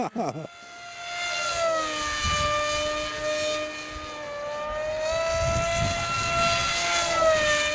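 A converted Lidl foam glider flies on its small electric motor, giving a steady high whine that shifts slightly in pitch as it passes overhead. Outdoors, people talk intermittently underneath.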